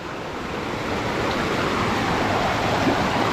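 Muddy water after rain rushes steadily at Gizlikent waterfall, a continuous broad hiss and roar at even loudness with no talk.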